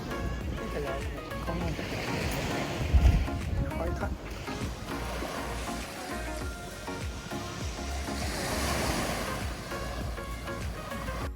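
Ocean waves wash steadily onto Hong Beach on Lamma Island, a continuous broadband surf roar with a gentle swell and a brief thump partway through, heard close and fairly loud.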